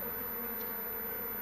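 Carpathian honey bees from the Varna region hum steadily at a hive while honey is harvested from nucleus colonies, a dense continuous buzz close by with no talk.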